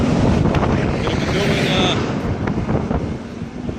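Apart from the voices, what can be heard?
wind on a very windy day in Cambridge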